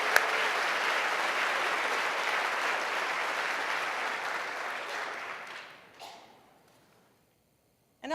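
Audience at a Black Professionals Gala breaking into sustained applause, a dense steady clapping that slowly fades out over several seconds before falling silent.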